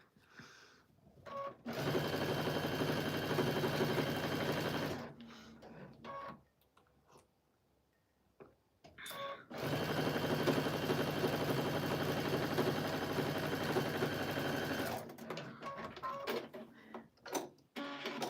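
A domestic sewing machine stitches scraps of quilt batting and fabric in two long, steady bursts of whirring motor and needle chatter, separated by quiet pauses with brief handling noises.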